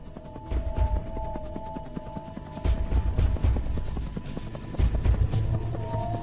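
Rhythmic thudding of a rescue helicopter's rotor blades during flood evacuations, steady and fairly close, with a droning engine hum underneath and no voices.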